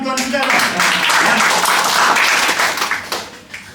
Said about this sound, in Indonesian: Kita beri tepuk tangan untuk Tuhan kita